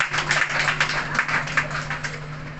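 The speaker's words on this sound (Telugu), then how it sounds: "అందరు కూడా చప్పట్లు కొడదాం." An audience at a Telugu church meeting claps along in a steady rhythm, a series of close, evenly spaced hand claps over a low electrical hum, with no talking.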